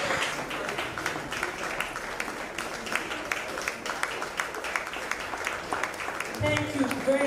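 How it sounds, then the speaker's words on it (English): Continuous applause from a graduation audience fills the whole stretch as a steady, even patter of many hands, with voices mixed in underneath. "Keep clapping until she finishes her acknowledgement."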